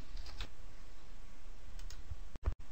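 Light, close keyboard typing of a short search term in a library thesaurus box, a quick patter of keystrokes followed by a couple of sharp mouse clicks near the end.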